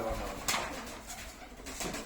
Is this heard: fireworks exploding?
no